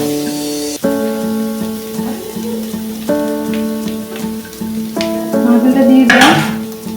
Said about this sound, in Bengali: নারকেলটাকে আমি ভেজে নেব।